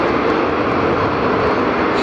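Spirit Airlines airliner landing at Fort Lauderdale airport, a loud, steady broadband roar of jet engines that holds evenly from start to finish with no voices.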